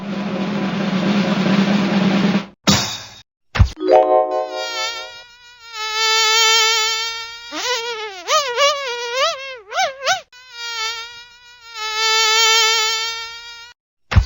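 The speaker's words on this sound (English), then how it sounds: "The fly is in the sky." A high, whining buzz like a fly, rising and falling in pitch across several bursts with short pauses, loud and close.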